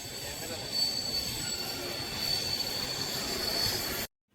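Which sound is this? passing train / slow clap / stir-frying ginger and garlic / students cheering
passing train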